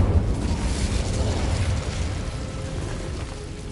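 Incendio fire spell cast in Hogwarts Legacy: a sustained roaring, rumbling burst of flame that stays loud and dense for nearly four seconds, easing slightly toward the end.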